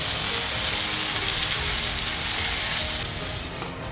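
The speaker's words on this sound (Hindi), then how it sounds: "सबसे पहले जीरा, अजवाइन थोड़ी, और फिर कर देंगे आलू फ्राई करेंगे इसको अच्छे से।" Potatoes frying in hot oil with cumin and carom seeds give a loud, dense, continuous sizzle close by, easing slightly near the end.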